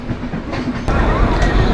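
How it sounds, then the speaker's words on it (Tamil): The Chennai Central to Bodinayakanur express train runs loud and close, with steady rumble and wheel clatter that grows heavier partway through. "இப்போது நீங்கள் பார்க்குறது இந்த சென்னை சென்ட்ரல்லேருந்து போடிநாயக்கனூர் போகிற ஒரு சூப்பரான எக்ஸ்பிரஸ் தாங்க."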